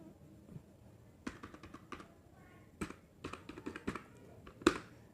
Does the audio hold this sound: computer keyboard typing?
yes